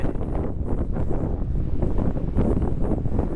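Strong gusting wind on the Shimane coast of Japan buffets the microphone with loud, continuous low roaring and fluttering bursts, with no voices.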